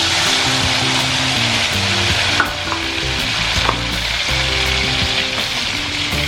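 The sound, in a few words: adding ingredients to a frying pan, sizzling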